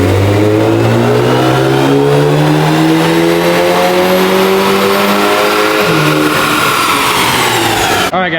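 A Volkswagen Jetta GLI engine revs hard on a dyno during a stock baseline pull, its loud, rising tone climbing steadily through the gears for several seconds before cutting off near the end.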